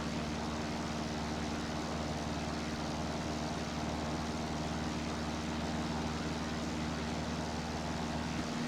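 A steady, unbroken drone of an Airbus A320 engine mixed with wind noise in the X-Plane 11 flight simulator, a constant hum with a low tonal whine.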